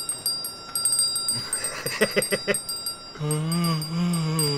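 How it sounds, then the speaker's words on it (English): The ophidian chime bell from the video game Life Is Strange: True Colors rings in a quick series of bright metallic strikes over steady game music, followed by a sustained low tone. "Ophidian chime. Snakes within hearing must fall asleep."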